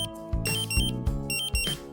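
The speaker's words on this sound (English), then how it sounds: "The A2 main alarm indicates danger to life." A2 main gas alarm of a Draeger Pac 8500 dual-sensor gas detector: rapid, loud, piercing electronic beeps in a quick stuttering pattern of alternating tones, sounding alone.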